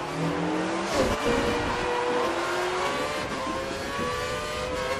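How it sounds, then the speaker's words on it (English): Formula One racing car engine held at full revs in the F1 2013 video game, Australia online race, a steady high-pitched sustained whine with shifting harmonic tones, loud and continuous throughout with no talk. "the car behind is running on full revs"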